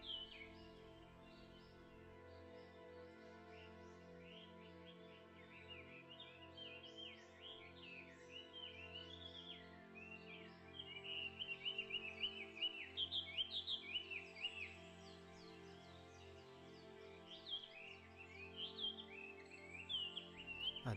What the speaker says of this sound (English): Number 4 is the black-necked monarch, such a beautiful blue bird.